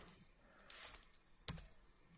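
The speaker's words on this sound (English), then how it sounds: "So I can just type it into Unity here." Quiet keystrokes on a computer keyboard as an IP address is typed in, a few soft taps followed by one sharper key press, close and faint.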